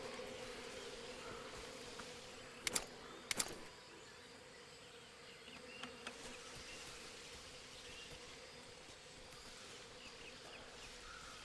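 Insects buzzing in the Metal Gear Solid Delta: Snake Eater video game, a steady faint drone of bees over quiet ambience, broken by a few brief sharp clicks.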